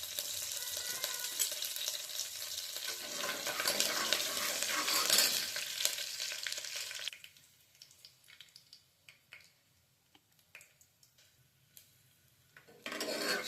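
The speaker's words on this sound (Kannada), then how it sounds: "ಸ್ವಲ್ಪ ಶೇಂಗಾ, ಸ್ವಲ್ಪ ಕರಿಬೇವು, ಇಷ್ಟು ಹಾಕಿ ಚೆನ್ನಾಗಿ ಫ್ರೈ ಮಾಡ್ಕೋಬೇಕು." Peanuts and curry leaves fry in a pan for bisibele bath, giving a loud, steady sizzle for several seconds. It then quietens to a stretch of scraping and clinking stirring with a spoon.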